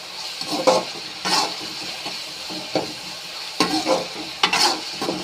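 Onions and tomatoes sizzle in a pan while a spoon stirs and scrapes in irregular bursts, close and moderately loud.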